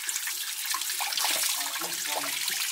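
Water runs from a tap for washing AirPods, a steady bright hissing splash, close and continuous, with faint gurgles in the lower range.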